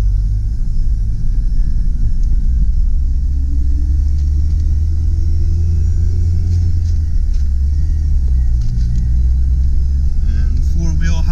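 A 2000 Jeep Cherokee with the 2.5L four-cylinder and five-speed manual drives in four-wheel drive high, its engine and road rumble loud and steady throughout.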